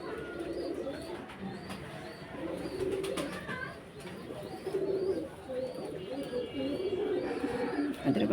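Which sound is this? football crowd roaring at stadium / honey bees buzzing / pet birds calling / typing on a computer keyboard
pet birds calling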